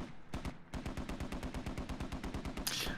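Sustained automatic gunfire in the military shooter game Squad, a rapid, steady stream of loud shots with a brief pause near the start and a sharper burst at the end, no talking.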